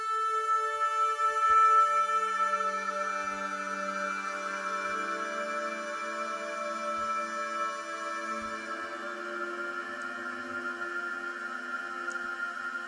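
Sustained synthesizer patches from the Unify plugin, using layered harmonic tones that swell and slowly shift, with faint plucked accents dropping in now and then, alone and clear for the full length.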